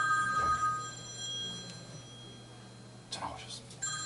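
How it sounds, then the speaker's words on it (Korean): A telephone rings faintly during a church cell group lecture, its bell-like tones recurring a few times against steady room hum, with soft speech nearby. "전화 오셨습니다."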